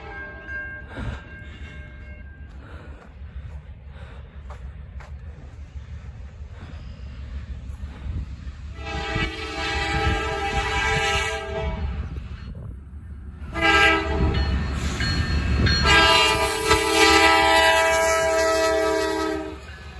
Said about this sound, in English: we got an NS train heading down the line